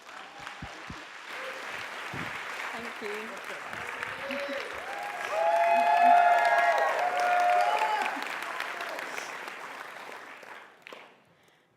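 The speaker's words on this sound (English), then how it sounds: "give a huge round of applause for Lily" An audience applauds a TEDx junior speaker in a hall, the clapping swelling to a peak midway then fading out, with a brief spoken thanks near the start.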